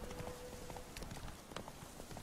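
Roach, the horse in The Witcher 3, gallops in a steady clip-clop of hoofbeats, moderately loud and close, running without pause under game ambience.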